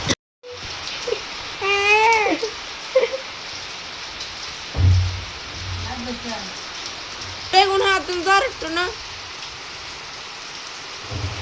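Rain falls outside in a steady, even hiss that runs through the whole stretch, while an adult and someone talk over it at intervals.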